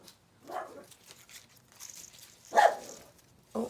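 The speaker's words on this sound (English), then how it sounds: "oh, my dog is barking." Dog barking in a house, a few short muffled barks from a distance, spaced irregularly with quiet in between.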